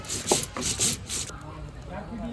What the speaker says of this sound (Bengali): পোস্তটা বেটে নিচ্ছি